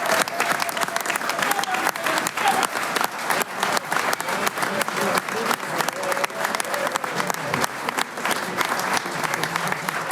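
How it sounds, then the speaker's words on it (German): Audience applause at an open-air midsummer Swiss folk choir concert, dense sustained clapping from a sizable crowd lasting around ten seconds, with scattered cheers mixed in. "Bitte einen Applaus."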